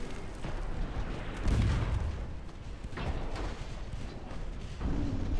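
Torpedo hits and naval gunfire in the warship battle game Ultimate Admiral Dreadnoughts, a dense rumbling barrage of heavy booms and low thuds, with a strong blast surging near the middle over continuous roaring battle noise.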